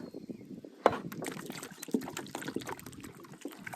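Liquid fertilizer is poured from a container onto newly planted cherry tomato plants, a close, soft splashing trickle that runs steadily with small gurgles and no talking.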